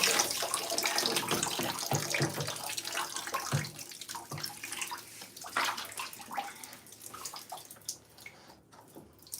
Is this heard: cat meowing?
no